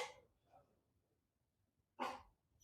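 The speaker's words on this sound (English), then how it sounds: "someone's just come over and the dogs are losing their minds" Dogs barking at a visitor who has just arrived at the house: a faint bark at the start, a softer one shortly after, then a louder sharp bark near the end, with quiet gaps between.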